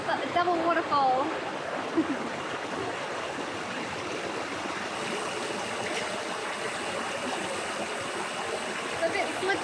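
Steady rushing roar of a double waterfall in the bush, broad and continuous, with a few faint bird or voice traces early on.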